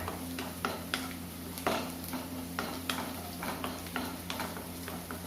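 Sliced onions with curry leaves frying in a pan, quiet and close, with a soft continuous sizzle under repeated light scrapes and taps of a spoon stirring against the metal.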